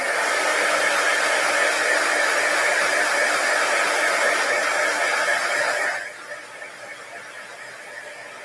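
A heat tool blows steadily and loudly up close while heat-setting a freshly sprayed stencil, then its airflow drops to a lower, quieter whir for the last couple of seconds.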